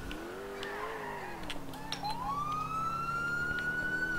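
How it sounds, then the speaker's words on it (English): In the GTA IV video game, police sirens wail with several rising and falling tones, loud and close over a steady traffic rumble. "Sirens, anyone?"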